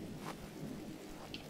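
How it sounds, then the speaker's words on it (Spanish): Rain falling in the video game GRIS, a faint, steady wash of rainfall with a soft low rumble, alone without voices. "Que llueve, que llueve."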